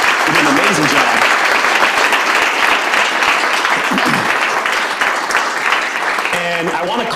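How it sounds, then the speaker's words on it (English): An audience gives the panelists a warm, sustained round of applause, loud dense clapping that carries on without a break, with faint voices mixed in. "I want you to really give a real warm round of applause to our panelists here"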